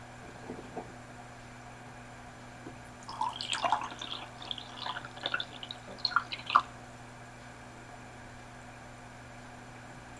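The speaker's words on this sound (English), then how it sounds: "So anyway, I'll pour you your tea." Tea poured into a cup in a quiet room: soft, faint trickling and dripping for a few seconds over a low steady hum, then the pour stops.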